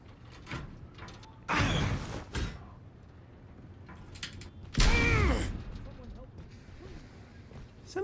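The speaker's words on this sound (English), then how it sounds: "Here's a big heavy door." A big, heavy door in the firefighting video game Firefighting Simulator: Ignite creaks and grinds through a few fairly loud mechanical bursts spread over several seconds, with quiet stretches between them and no clear talking.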